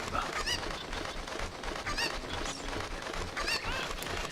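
Chickens cluck repeatedly in short bursts over a steady noisy background, with no one speaking, in the video game Legend of Zelda: Ocarina of Time.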